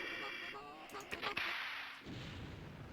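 Mortar launched in the video game MDK, a sharp thumping shot with a burst of noise around the middle of the moment, amid ongoing game ambience and a humming background.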